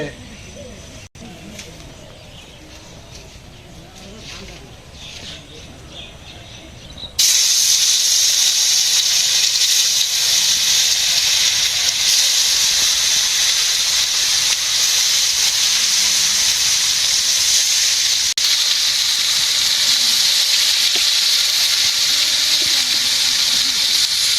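Fish frying in a pan in a village kitchen: after several seconds of quieter background sound, a loud, steady, close sizzle starts abruptly and carries on unbroken.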